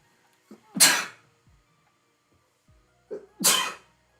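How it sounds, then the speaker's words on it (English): Two loud, close sneezes, each with a quick sharp intake of breath before the explosive burst, spaced a few seconds apart. "I'm going to sneeze in a second."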